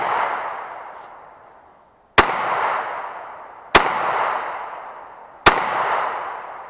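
Three loud Sig P229 pistol shots fired at a far target outdoors, each a sharp crack trailed by a long fading echo, spaced about a second and a half apart, with one more shot decaying at the start.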